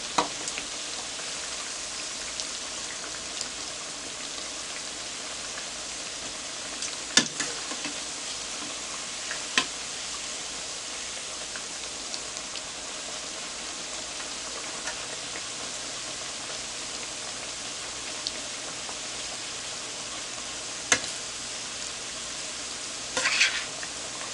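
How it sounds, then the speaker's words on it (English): Plantain slices fry in palm oil with a soft, steady sizzle and scattered light ticks and clicks as pieces are turned, near and fairly quiet, running without speech. "So let that fry, and then we're going to flip it over."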